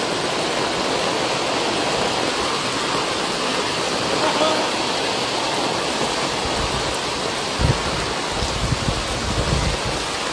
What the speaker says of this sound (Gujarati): નદીની જેમ પાણી વહી રહ્યું છે.